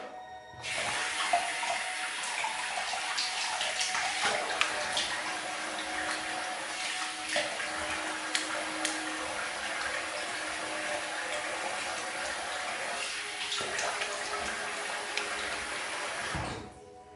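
Tap running into a sink to rinse off after a shave, a steady close hiss of flowing water that starts abruptly, holds for about fifteen seconds, then shuts off.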